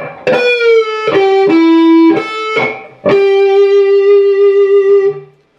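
Distorted electric guitar plays a short lead solo in E pentatonic from a song, with sustained, singing notes separated by brief gaps, loud and close.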